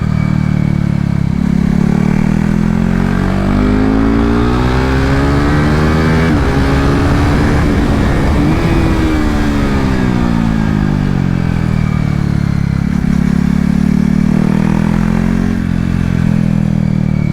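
A KTM RC390 Cup motorcycle runs hard around a race track, its single-cylinder engine droning loud and close, pitch swooping up and down through shifts and corners without pause.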